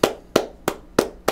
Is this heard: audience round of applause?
yes